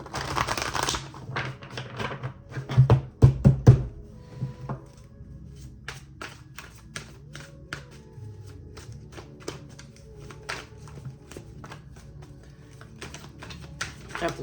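A deck of tarot cards being shuffled by hand, with brisk flurries of crisp card slaps and riffles up close, then lighter scattered taps continuing alone.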